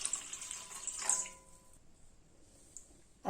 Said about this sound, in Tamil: இப்போ ஒரு பாத்திரத்துல கொஞ்சம் தண்ணி ஊற்றிக்கலாம்.